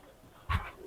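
Pakistani highflyer pigeons in a loft give a single short, low coo that rises briefly from faint background noise.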